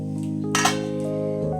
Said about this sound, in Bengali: আমি এবার ওপরের ঢাকাটা খুলে নিলাম।